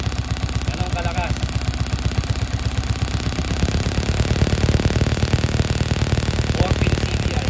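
A Starex 125 motorcycle engine running with a rapid, steady putter that grows slightly louder midway, close and loud, with a rattly mechanical edge.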